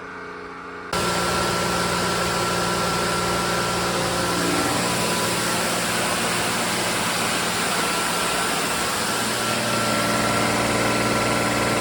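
A Landa VHG pressure washer's engine runs steadily and loud, a constant droning hum with a mechanical whine that starts abruptly and holds without talk.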